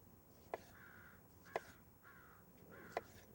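Crows caw outdoors in three sharp, evenly spaced calls, faint and somewhat distant over a quiet background hum.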